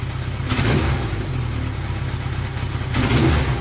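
Motorcycle engine revving in two surges with a slight stutter, a steady running drone between, close and loud, treated with octane boost and fuel stabilizer.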